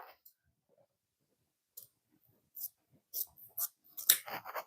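Scissors snip through gift-wrap ribbon in several crisp, close clicks that come faster and louder toward the end, with no talking.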